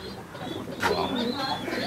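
A Dasu-line pigeon in a home loft gives low rolling coos, moderately close, mixed with a voice speaking over the brief stretch.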